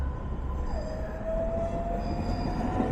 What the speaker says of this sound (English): now here comes the train, so that lane stops